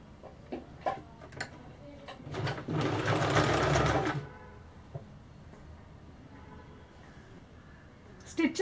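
A sewing machine stitches a seam on a blouse to the end, running in one fast rattling burst of a couple of seconds amid small ticks and handling sounds, with a voice speaking quietly around it.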